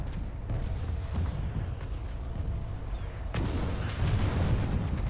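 Booming weapon fire in a military video game, with heavy low thuds under a steady rumbling battlefield wash, growing denser and louder partway through.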